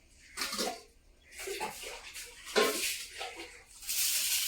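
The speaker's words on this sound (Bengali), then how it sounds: "কাটা হয়ে গেছে এবার ধুয়ে নিয়ে চলে আসবো" Cut papaya pieces being washed in water in a home kitchen, with bursts of splashing and running water in several uneven pulses, fairly close, and no talking.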